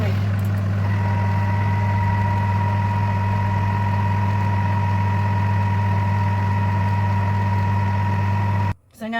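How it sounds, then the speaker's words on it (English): A food mixer blends flour and yeast on speed 3, a steady close motor hum with a strong low drone and faint whirring, running evenly before cutting off abruptly near the end. "I'm just going to mix the flour and yeast for 20 seconds on speed 3."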